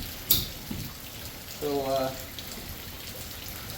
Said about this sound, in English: hopefully you can hear me over the rain and the water